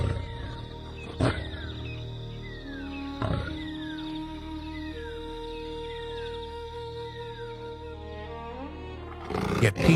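A lion roars over freshly caught prey on the savannah, giving a few deep, heavy roars with sharp cracks between them, while distant birds chirp and a loud thump closes the scene.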